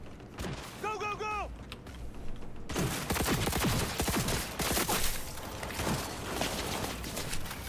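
Gunfire in the video game Cyberpunk 2077: after a brief quieter stretch with a tonal chirp, dense rapid shots and bursts erupt and continue loudly, mixed with mechanical clatter and game voices calling out.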